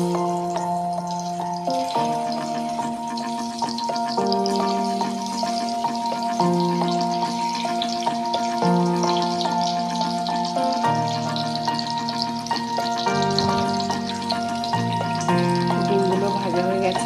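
Boiled eggs fry in hot oil in a pan, giving a steady, even sizzle that continues throughout under background music.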